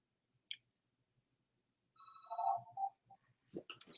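A phone ringing, a short electronic ring burst after a faint click, quiet and brief, followed by soft handling noises.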